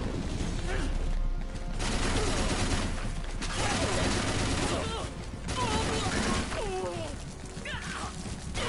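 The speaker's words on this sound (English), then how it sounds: "The fireworks launcher is such an obnoxious weapon to go up against." A fireworks launcher weapon fires in a video game, loosing dense, overlapping bursts of pops and crackling blasts amid busy, continuous game noise.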